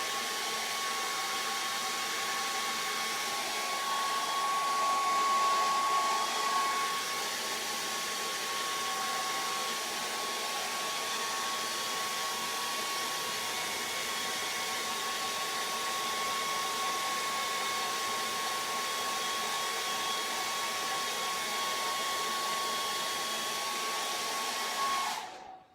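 A hair dryer blows steadily onto a watercolour painting, a loud, even whooshing whine with a thin high tone running unbroken for the whole stretch before switching off at the very end.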